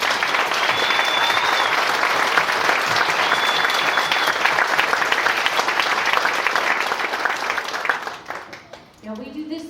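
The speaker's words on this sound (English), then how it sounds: "Y'all give me a round of applause," A crowd at a revival service applauds veterans, widows of veterans and military personnel in steady, full-room clapping that holds loud for about eight seconds before thinning out as a little talk comes through.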